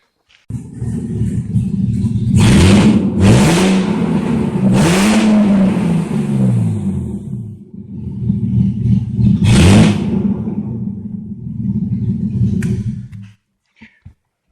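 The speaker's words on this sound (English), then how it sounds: "Sounds kind of like a cammed V8." A BMW E36 engine, drive shaft removed, idles roughly and revs hard several times, rising and falling in pitch, close up with a rumbling, clattery tone before cutting off.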